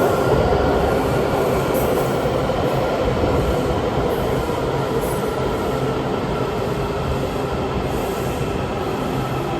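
A Washington DC Metro subway train rolls along steadily with a loud, continuous rumble and faint high wheel squeal, no talking.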